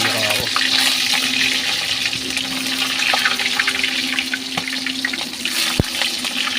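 Frozen Hungarian sausage sizzles and spatters in hot cooking oil, a loud, continuous hissing crackle with scattered sharp pops throughout.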